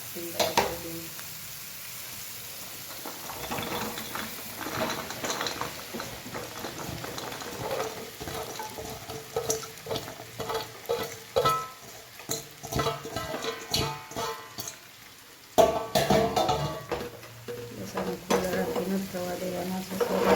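Okra (bhindi) frying in oil in a home kitchen pan while it is stirred. A steady sizzle runs throughout, with scraping and clattering from the spoon that grow louder and busier toward the end, and a voice speaks at times.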